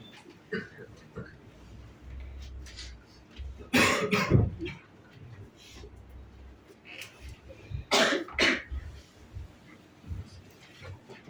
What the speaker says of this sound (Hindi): सब लोग को खांसी है क्या?